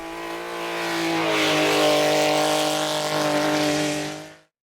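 Racing car engine roaring past on the Ouaco circuit during a Fun Car track day, a loud sustained drone that swells and then cuts off abruptly at the end.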